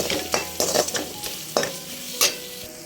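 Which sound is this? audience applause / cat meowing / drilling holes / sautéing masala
sautéing masala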